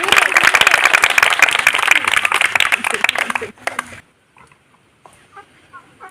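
A small group claps hands for a girl playing a cup-and-ball game, brisk clapping for about three and a half seconds that stops abruptly, leaving near silence with faint sounds afterward.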